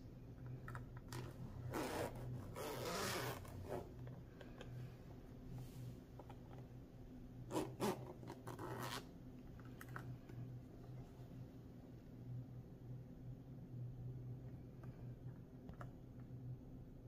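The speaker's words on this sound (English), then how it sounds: "I'm going to gently unzip the case." Faint zipper rasps while a Nintendo Switch travel case is gently unzipped, short scraping pulls in small bursts over a quiet room hum.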